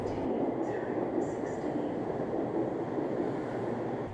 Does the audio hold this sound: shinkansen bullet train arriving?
yes